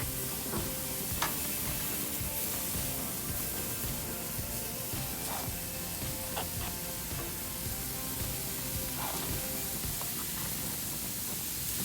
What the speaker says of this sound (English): Put the kebabs on the grill and we're gonna flip them every 20 seconds or so